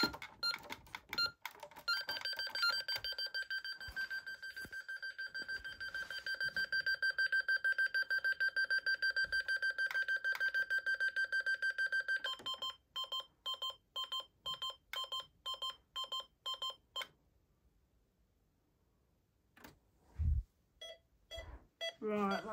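An Optima security alarm panel goes into alarm, starting with a loud steady electronic tone held for about ten seconds, then switching to a fast run of sharp repeated beeps before falling quiet.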